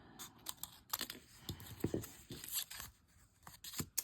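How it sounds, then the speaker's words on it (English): Scissors snip through craft paper for a junk journal, a run of crisp close cuts and clicks in uneven rhythm with small rustles of handling between them. "Let me just get my scissor, it's easier. And so I'm just going to cut that one there."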